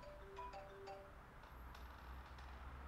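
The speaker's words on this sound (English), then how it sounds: "I think it's my phone." Mobile phone ringing with a faint melodic tone of a few short chiming notes, then softer pings over low background noise, with no talk.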